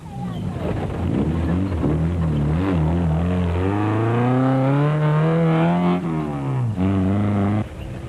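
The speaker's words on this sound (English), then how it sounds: "Chris Visser and Jaapie Badenhorst make up a place in the Tyco Trucks Toyota Hilux" Toyota Hilux rally truck racing in the Lesotho Sun 400, its engine holding a loud, steady, rising roar close by for several seconds, with no voices over it.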